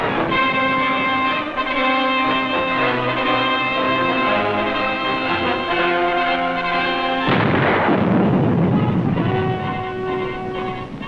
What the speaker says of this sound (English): Japanese artillery is constant, heavy, and accurate throughout the entire operation.